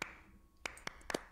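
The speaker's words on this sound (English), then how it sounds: "I love the claps" Handclaps in the intro of an LGBTQ+ music video: a handful of sharp, sparse claps over a soft sustained tone, quiet overall.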